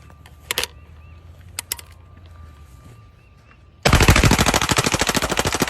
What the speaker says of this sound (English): That is him shooting Bud Light cans in an open field.